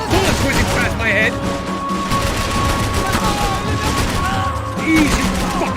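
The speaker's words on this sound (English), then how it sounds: "I can't concentrate with bullets whizzing past my head!" Gunfire in the video game Max Payne 3, a loud, dense barrage of shots heard under game dialogue and a busy mix, with bullets whizzing past.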